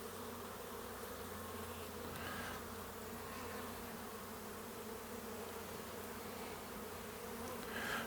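A dense, continuous drone of many honey bees buzzing around an open nucleus hive frame, steady and close, with no talking.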